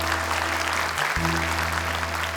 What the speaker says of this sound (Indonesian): Boleh tepuk tangan sekali lagi untuk Afiko Malina, peserta terakhir kita hari ini.